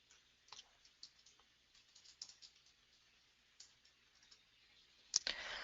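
Faint, quiet clicks and taps at a computer desk, scattered keyboard typing and mouse clicks in an uneven rhythm, ending in a slightly louder burst of clicking, with no voices.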